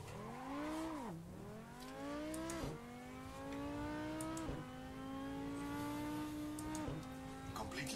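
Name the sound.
Audi R8 V10 race car engine revving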